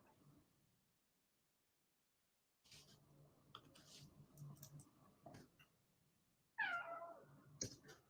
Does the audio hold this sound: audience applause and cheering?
no